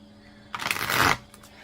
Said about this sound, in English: I do shuffle all the cards before I get started, so for each reading.